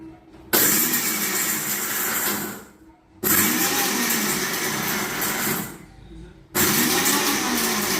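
A mixer grinder crushes goat leg soup ingredients in short pulses: three loud, whirring bursts, each cut off by a brief silence before the motor roars up again.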